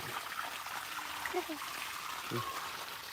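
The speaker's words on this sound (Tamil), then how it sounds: "தண்ணி போயிட்டுருக்கு" Water from an irrigation pump set rushes steadily, close and continuous, with faint murmurs of voices now and then.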